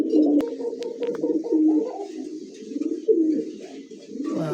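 Racer pigeons cooing close by in a continuous low, throaty rolling coo, several birds overlapping with brief pauses, alone without talk.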